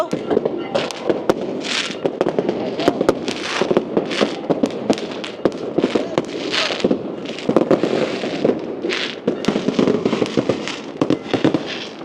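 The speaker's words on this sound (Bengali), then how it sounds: "এই যে আতসবাজি পড়তে আছে" New Year fireworks over the Black Sea shore in Romania on a freezing night: a dense, continuous barrage of crackling bursts and sharp pops, with booming thumps and crowd noise from people gathered along the waterfront.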